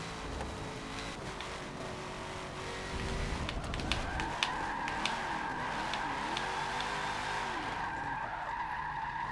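A car in Forza 7 drifts at Spa-Francorchamps during an endurance race, its tires skidding in a long rising squeal over a steady engine drone, fairly close.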